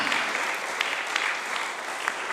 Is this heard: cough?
no